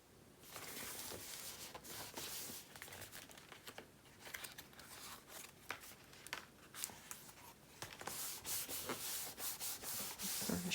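Paper is burnished by hand on a Graphic 45 craft project, a continuous close, dry rubbing and scraping with frequent short strokes and crinkles, fairly faint and alone.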